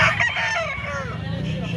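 Up close, a football-sized bulik gamefowl rooster with a bright red face lets out a loud, drawn-out crow lasting nearly two seconds, with faint voices and farmyard noise behind it.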